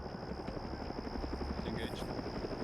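A helicopter flies overhead in a military PvP video game, a continuous close rotor drone with a steady high whine, with voice chat faintly audible beneath.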